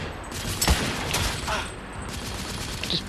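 Rifle fire in the video game The Order: 1886 comes as loud, close bursts of gunshots over a dense, noisy game soundscape, with a few sharp reports standing out.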